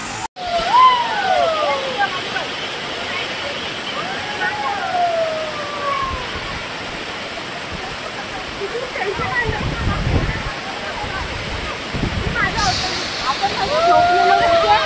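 Nhavankond waterfall at Talebajar in Sindhudurg pours in heavy rain, a steady rushing roar with people talking over it throughout.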